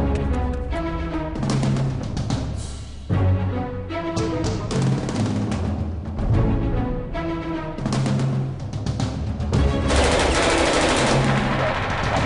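Hostile gunfire picked up by a Guardian UGV military robot, repeated bursts of machine-gun fire, loud and fairly close, over a steady background rumble.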